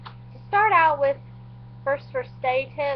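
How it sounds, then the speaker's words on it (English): A cat meows several times in quick, high, drawn-out calls, close by, while a person speaks quietly between and over them. "Sorry, that's my cat."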